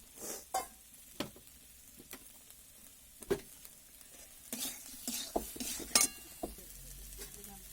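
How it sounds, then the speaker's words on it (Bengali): Spice paste with salt being stir-fried in a pan: quiet background sizzle broken by irregular scraping and clinking strokes of a spoon against the pan, close and fairly soft, with no talk. "দিয়ে ভালোভাবে মশলাটাকে কষে নেবো"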